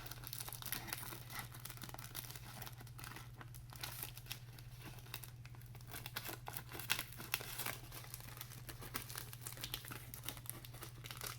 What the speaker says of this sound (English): I don't want that covered with cellophane.